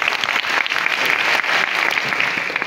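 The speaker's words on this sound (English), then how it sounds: "Can I have a big round of applause for her?" A seminar audience at RUET breaks into applause, a dense burst of many clapping hands close and loud, holding steady for a couple of seconds before easing slightly.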